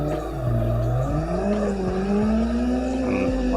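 Car in Assetto Corsa drifting sideways, engine droning and revving with rising and falling pitch while tires squeal through the slide, loud and up close, no talk.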